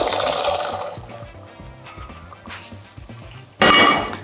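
Simmered cooking water with bits of kelp pours loudly through a strainer, splashing and rushing close up, fading to trickles and then surging again in a final strong gush.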